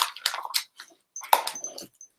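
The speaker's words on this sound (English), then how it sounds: "The dogs are really not enjoying this." Dogs whimpering during a holiday gathering where Christmas crackers are being pulled: several short, high, strained whines and yelps come in two close bursts with a brief quiet gap between.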